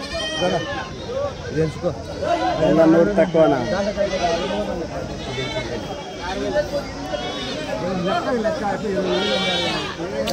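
Goats bleat repeatedly at a busy outdoor goat market in Kadiri, their wavering calls rising over steady crowd chatter and nearby talking throughout.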